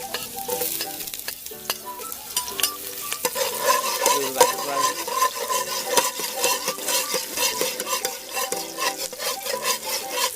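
Garlic sizzles in hot oil in a pan while being stirred, with frequent scraping and clinking strokes of a utensil over a continuous frying hiss, close and moderately loud, with no talking.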